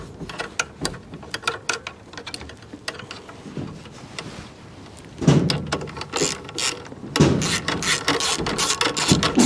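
A hand ratchet clicks steadily as it drives a bolt into the headlight motor of a 1994 C4 Corvette, close and crisp, with rhythmic pawl ticks growing louder and denser toward the end.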